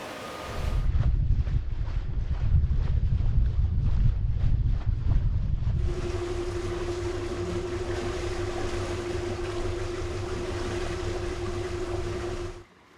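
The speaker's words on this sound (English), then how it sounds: "an electric boat" A 2020 Greenline 40 Hybrid electric boat cruises with a steady low hum and a faint whine, water swishing along the hull; an earlier stretch carries rhythmic thumping before settling into smooth running.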